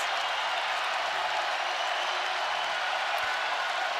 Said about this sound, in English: As loud as the crowd has been all night